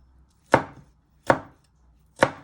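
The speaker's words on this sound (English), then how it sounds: "You just want to finally slice it" A kitchen knife slicing through garlic on a cutting board, three crisp separate cuts spaced roughly a second apart, each a sharp close thunk with a quick fade, the spaces between them quiet.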